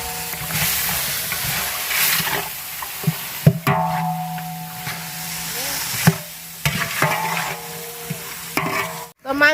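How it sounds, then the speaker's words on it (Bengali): Meat and spice paste stir-fry in a pot at a picnic: a steady loud sizzle runs throughout, broken by irregular scrapes and knocks of the stirring spoon against the metal close by. "তো মাংস কষানো হয়ে গেছে"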